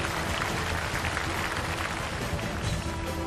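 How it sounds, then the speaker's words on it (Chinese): A television talent-show audience in a studio claps steadily and densely for a singer, a continuous wash of applause at even loudness throughout. "掌声再次有请"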